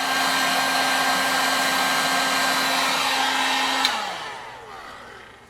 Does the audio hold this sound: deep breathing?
no